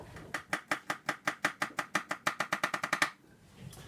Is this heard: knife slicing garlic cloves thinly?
yes